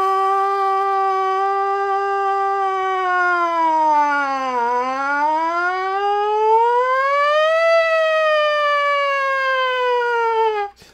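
A buzzy, resonant lip buzz for trumpet warm-up glides down and back up in pitch, imitating a siren's wail, sustained for about ten seconds before cutting off.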